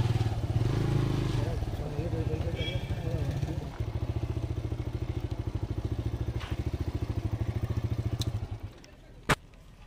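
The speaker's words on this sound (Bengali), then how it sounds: "চলো বাইকটা এখানে রাখা যাক" A motorcycle engine runs close and loud with a steady throbbing chug for most of the ride, then drops away near the end, with voices faintly present.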